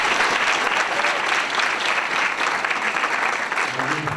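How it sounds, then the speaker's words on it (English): An audience at a high school champions banquet bursts into sustained, dense applause, loud and close, a steady wash of clapping that carries through without pause. "Give yourselves a big round of applause"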